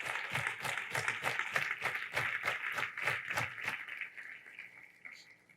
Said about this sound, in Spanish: Dale un aplauso a Dios bendito,